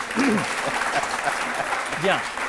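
An audience claps steadily in a television studio courtroom-style talk show, the applause sounding as a dense patter under someone speaking over it.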